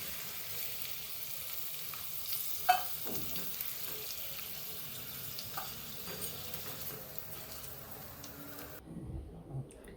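Corn kernels deep-frying in oil until crisp, a soft continuous sizzle with occasional pops and ticks, quiet and steady before dropping away near the end.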